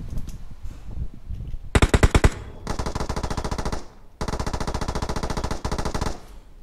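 Rapid automatic machine gun fire in a video game rattles out in three sustained bursts, the first sharper and briefer, the later two long and even, with no talk.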